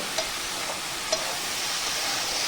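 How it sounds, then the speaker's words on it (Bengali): Red amaranth stem curry sautés in a pan with a steady, close sizzle, punctuated by a couple of brief spatula scrapes and stirs, with no talking. "দেখো আমি কিভাবে কষছি তরকারিটা"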